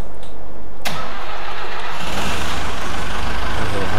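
A Bobcat skid-steer loader's engine cranks with a sharp start, then catches and settles into a loud, steady close-up diesel rumble that fills the rest of the moment.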